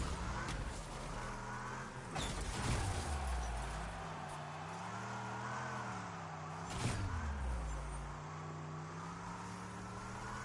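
A car in the vehicular combat game Destruction All-Stars drives steadily with a continuous engine drone whose pitch rises and falls, punctuated by a couple of brief swooshing passes or impacts.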